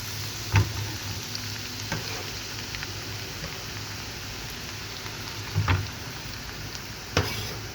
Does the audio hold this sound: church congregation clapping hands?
no